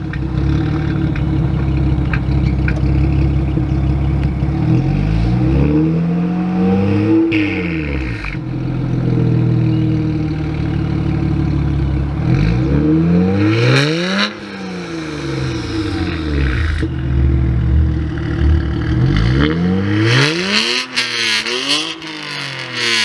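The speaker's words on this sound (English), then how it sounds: "we're gonna do a warm start and a few revs" A BMW 135i with the N54 engine and stock exhaust fires up warm and idles loudly nearby, then is revved several times, the pitch sweeping up and falling back with each blip, the last revs quick and close together.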